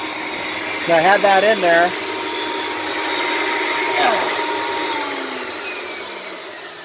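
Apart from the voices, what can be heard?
vacuum cleaner running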